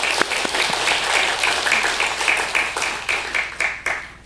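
Church congregation at a Sunday worship service clapping in welcome for a visiting pastor, a steady mid-level round of applause with distinct individual claps that thins into a few sharp ones at the end.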